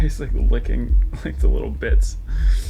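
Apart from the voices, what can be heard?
No distinct noise like a dog, phone or traffic.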